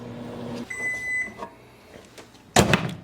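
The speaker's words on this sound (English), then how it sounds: "Back in the microwave, 30 seconds." A microwave oven heating popcorn hums low and steady, then a short high beep sounds and a loud clatter follows near the end as the door opens.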